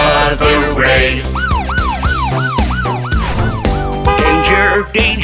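Cartoon police car siren in a children's animation, a rising-falling wail repeating about seven times over a busy musical backing, loud and close.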